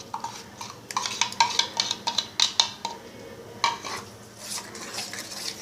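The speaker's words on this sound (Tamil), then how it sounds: "இப்போ நம்ம கோர்ஸாக பொடி பண்ணி வச்சுருக்கோம்ல வேர்க்கடலையும் எள்ளையும், அதோட இதை மிக்ஸ் பண்ணுங்கள்" A spoon mixes ground tomato into coarse peanut and sesame powder for chutney, scraping and clinking against a bowl in a run of sharp, rhythmic taps, then a few slower strokes, with no talking.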